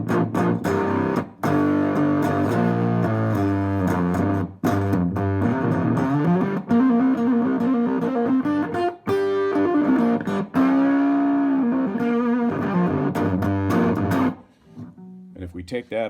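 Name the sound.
fuzz distortion pedal from a CB radio, large electrolytic input cap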